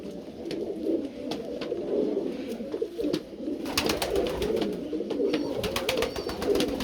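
Pigeons coo in low, throaty repeated calls from a loft of show pigeons, steady and moderately close, with scattered sharp taps and rustling over the top.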